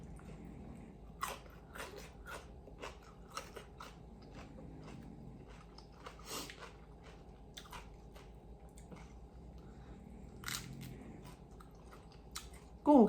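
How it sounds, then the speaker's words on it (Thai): Someone chewing roasted soft-shell shrimp, eaten shell and all and turned crisp, with repeated close, moist bites and crunches going at a steady pace. No voices are heard. "เขาเป็น กุ้งเปลือกอ่อนนะเราเอาไปคั่ว ก็เลยกลายเป็นกรอบไปเลย"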